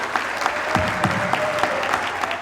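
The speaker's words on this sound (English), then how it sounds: "Please give a big round of applause to a great union leader" An audience at a union Founders Day event applauds a labor union leader, a loud, sustained round of clapping from a crowd with no talk over it.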